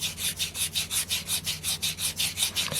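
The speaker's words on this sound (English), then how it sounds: "I've just got a little bit of piece of 400 grit cloth sandpaper here, and I'm just going to clean that up a little bit" A metal shaft is rubbed with 400 grit cloth sandpaper in quick, even back-and-forth strokes, about a dozen close rasping passes at a steady rhythm.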